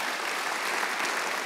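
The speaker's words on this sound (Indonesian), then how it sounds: "Tepuk tangan bagi Allah kita." A church congregation applauds during a worship service, a dense, steady wash of clapping from many hands sustained throughout.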